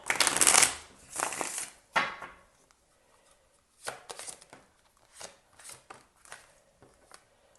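Tarot cards being shuffled, with quick riffling bursts at first and then softer intermittent flicks and taps that come close and fairly quiet, with no talking.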